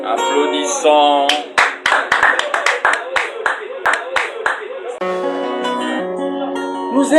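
A church congregation claps together in a steady rhythmic beat during a service in Congo, the loud clapping mixed with singing and voices throughout.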